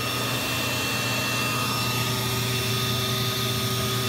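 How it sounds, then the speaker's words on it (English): A vacuum pump pulls suction on a jacuzzi's jet line during a pressure piping leak repair, giving a steady loud droning whine with tonal hum, close by and unchanging throughout, with no talk. "now we're pulling the vacuum on that jet"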